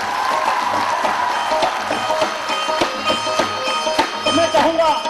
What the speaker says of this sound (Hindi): एक बार तालियां बजाइए शहीद किरोड़ सिंह के नाम पर